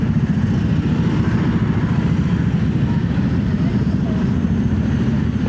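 Honda ADV 160 scooter riding through Jakarta traffic, a steady loud engine drone with road rumble filling the whole stretch, no pauses.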